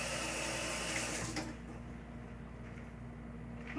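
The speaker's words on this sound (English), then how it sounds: "So let me wash my hands" A kitchen tap runs steadily as hands are washed beneath it, a continuous splashing rush of water that dips slightly partway through and then carries on.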